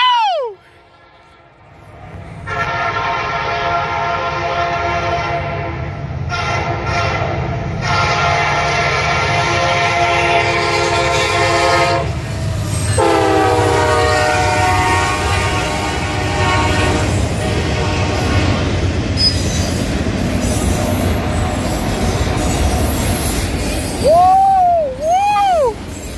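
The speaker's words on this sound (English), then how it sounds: "Northbound intermodal with auto racks on the front." Northbound intermodal freight train with auto racks at the front passes close and loud, with a steady rumble and wheel noise, long horn blasts near the start and middle, and a warbling horn near the end.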